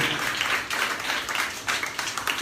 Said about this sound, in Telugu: చప్పట్లతో దేవుని మహిమపరుస్తాం